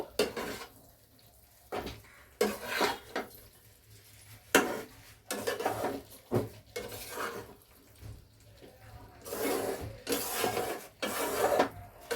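A utensil scrapes and stirs cauliflower pieces in a metal pan of oil for a cauliflower korma, in repeated rasping strokes with brief pauses between them, close and fairly loud.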